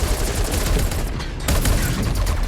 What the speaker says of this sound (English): Firing armor-piercing rounds.